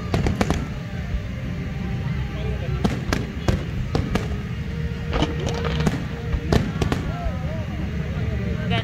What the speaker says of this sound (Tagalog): Umuulan na ng fireworks.